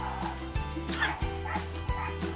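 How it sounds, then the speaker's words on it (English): Dogs bark and yip right outside a window, several sharp barks in quick irregular succession with a whimpering edge, fairly close and loud over a quiet indoor room. "dogs are literally barking right outside my window right now"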